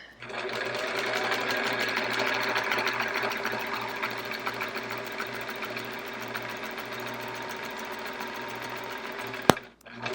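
A sewing machine quilting in the ditch on a chevron quilt runs steadily at close range, a loud continuous rhythmic whir that stops abruptly near the end with a sharp click.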